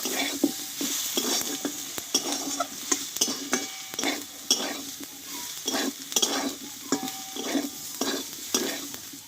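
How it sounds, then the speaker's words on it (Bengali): Coriander, chili and turmeric powder are stir-fried in a pan for an okra dish, with a spatula scraping and tapping in a rapid, repeated rhythm over a loud, close sizzle. "আর দেবো একটু হলুদ গুঁড়ো দিয়ে একটু আবারও আমি কষিয়ে নেব"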